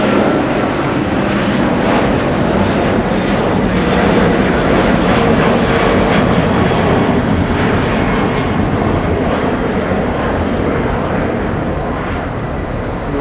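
A Boeing 777-200 airliner takes off at Los Angeles, bound for Miami, its loud sustained jet roar swelling and holding, then easing slightly as it climbs away, with no voices over it.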